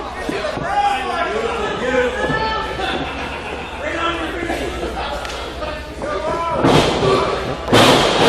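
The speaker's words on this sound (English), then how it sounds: "Textbook suplex, and when you've got a guy like Bulk Nasty suplexing you, that's not just a standard suplex." A wrestler is slammed onto the ring mat by a suplex in a wrestling match. Heavy thuds land near the end over continuous crowd noise and excited commentary.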